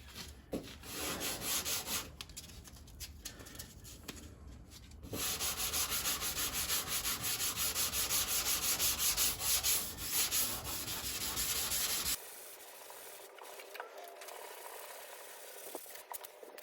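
Hand sanding of body filler on a Jeep Patriot with 240 grit sandpaper, a steady close scratchy rubbing in continuous strokes that swells louder midway, then drops to a quieter, thinner rub near the end.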